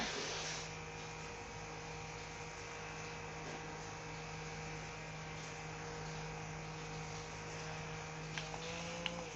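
A small electric fan runs nearby, making a steady, even whirring hum with a faint buzz that holds unchanged from start to finish.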